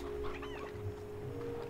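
A rooster in the Slime Rancher video game gives a few short clucking calls over a steady electronic hum and low game background, moderately faint.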